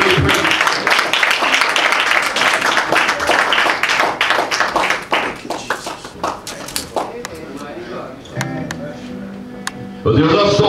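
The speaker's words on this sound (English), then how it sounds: "Come on, come and clap our hands for the Lord." A church congregation claps hands in praise, dense rhythmic clapping under loud singing or preaching voices, thinning toward the end before a final burst.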